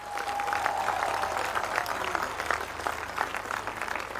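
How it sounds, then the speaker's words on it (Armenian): Loud, sustained applause from a crowd at a gathering honoring women, steady clapping filling the whole stretch with a tone briefly sounding near the start. "ուզում եմ բարձր ծափարեք մեր բոլոր կանանց"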